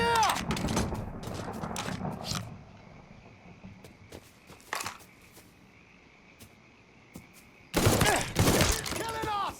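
Gunfire in the video game Mafia III: loud bursts of rapid shots at the start and again at the end, with scattered single cracks and quieter stretches in between.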